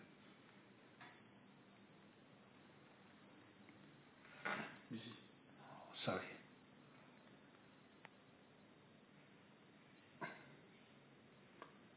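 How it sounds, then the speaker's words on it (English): A leak detection panel's alarm buzzer sounds as a steady, high electronic tone in long pulsing bursts, fairly faint, with brief handling noises and a short spoken word in between. "So the LED moved from green to red. The buzzer sounds."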